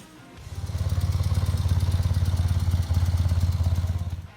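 A 1970s BMW R75/5 motorcycle engine fires up and settles into a loud, even, rapid thumping run, close by, with a brief dip in the middle.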